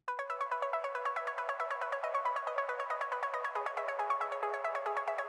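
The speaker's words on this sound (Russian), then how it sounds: "Сам звук — это один из плюковых, плаковых звуков, выкрученных на Massive." A plucky synth arpeggio built in Massive for an uplifting trance intro, with autopan and EQ: a fast, even stream of short bright notes stepping through a pattern, steady and moderately quiet with no voice.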